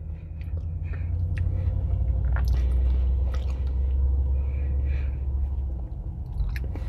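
Someone eating a Taco Bell Chipotle Cheddar Chalupa, with close, steady chewing and soft crunching bites that continue through the whole stretch.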